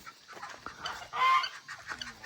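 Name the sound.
geese honking in farm pen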